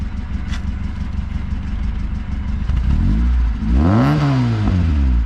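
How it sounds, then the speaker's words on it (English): A 1990s Acura Integra (DA9) car engine idles with a low rumble, then revs up sharply and falls back, close and loud, with no voices. "Give it a couple revs."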